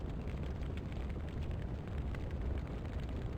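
Fire igniting in the video game Gabriel Knight 2: a steady, dense roaring rumble that holds evenly for a few seconds, with no voices.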